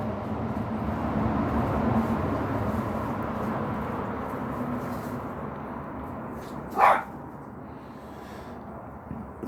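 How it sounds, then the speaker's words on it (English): A dog named Buster gives a single short bark, fairly close, over a steady bed of indoor background noise during an otherwise quiet stretch. "Damn dog."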